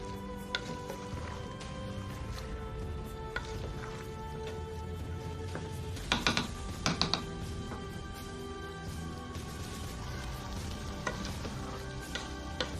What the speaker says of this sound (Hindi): अब थोड़ा सा इसको 5 मिनट भूनेंगे